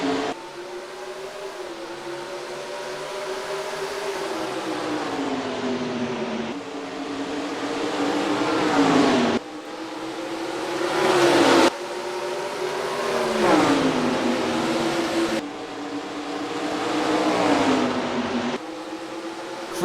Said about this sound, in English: cars rolling off the starting grid at the Richmond Raceway for short track racing in Virginia